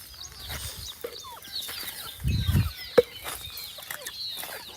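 Chickens on a farm during morning rounds, with scattered clucks and a brief louder squawk over low rustling and movement; no voices.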